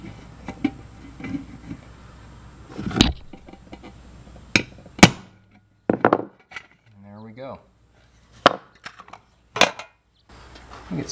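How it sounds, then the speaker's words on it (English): Several sharp metallic taps of a hammer on a center punch ring out at irregular intervals, with quiet gaps and brief bursts of talking in between. "I'm going to tap that with a hammer."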